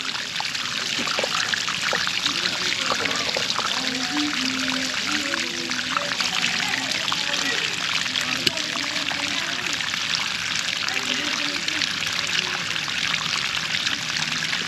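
Water pours and trickles steadily without pause out of an unused PVC pipe, a continuous splashing flow heard up close, with faint voices mixed in underneath.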